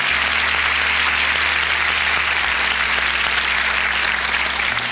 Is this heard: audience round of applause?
yes